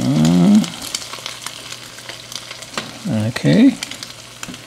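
Crab cakes fry in hot oil in a slightly convex pan, a loud, constant crackling sizzle close by, while someone speaks briefly at the start and again near the end.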